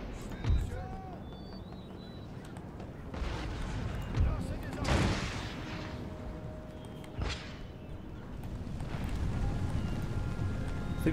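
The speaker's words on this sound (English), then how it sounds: "I think that's my mortars firing" Mortar fire during a siege battle in Empire: Total War, with a few dull booming blasts spread across the clip over a continuous rumble of battle noise, while someone talks over it.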